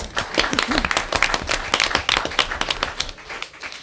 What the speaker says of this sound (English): Tim, round of applause